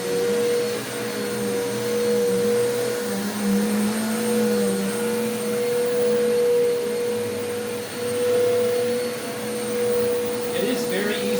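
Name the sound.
Eureka Boss Capture bagless upright vacuum cleaner running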